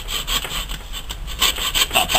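A blade saws through a venison backbone during butchering, giving a close, continuous rasping scrape in rapid back-and-forth strokes with no voices.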